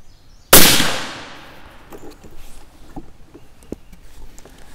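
A .280 Ackley rifle fires a single loud, sharp shot from a bench, its report decaying over a second or so, followed by quiet handling noises.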